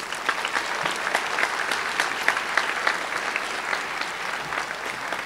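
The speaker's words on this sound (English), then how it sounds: "So students, I'd appreciate if you just gave your teachers one big round of applause." Students at a middle school promotion ceremony give their teachers a round of applause, dense, even clapping with distinct individual claps standing out throughout.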